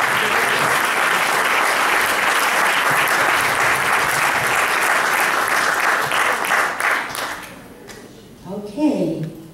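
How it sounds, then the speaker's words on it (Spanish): An audience at a Peruvian cultural event breaks into loud, sustained applause, dense clapping that lasts several seconds before tapering off. A voice then speaks briefly near the end. "Un aplauso para Lucas Wassi desde Boston"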